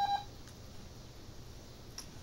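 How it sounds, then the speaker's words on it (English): A mobile phone gives one brief, clear electronic beep at the very start, then only a quiet room hum remains. "Sorry, it's my phone."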